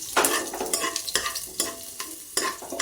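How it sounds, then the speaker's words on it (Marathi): Cut garlic cloves fry in a pan for dal khichdi, a continuous close sizzle with repeated scraping stirs of a spoon at a steady rhythm. "लसूण छान असं यामध्ये फ्राय करून घेणार आहोत आपण"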